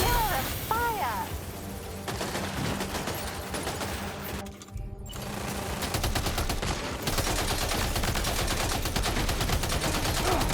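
Heavy video game gunfire in Death Stranding 2, a dense, continuous barrage of rapid shots and bursts with a brief lull midway, loud and close, with voices calling out over the firing.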